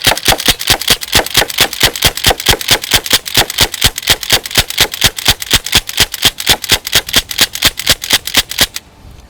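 A CO2-powered air rifle fires in a rapid, evenly spaced string of sharp, loud cracks, close by and continuing for several seconds before stopping abruptly.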